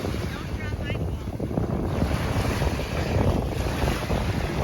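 Strong wind blowing at a beach on Cayo Costa, buffeting the microphone with a loud, constant roar over surf, with faint voices mixed in underneath.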